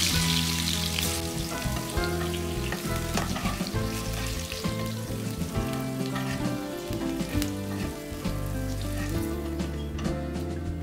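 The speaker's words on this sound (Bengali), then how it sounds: "এখন এই তেলের মধ্যে আমি আলুগুলোকে দিয়ে দিচ্ছি" Potatoes fry in hot oil with a loud, continuous sizzle and crackle close by, over a faint musical background, with no talking.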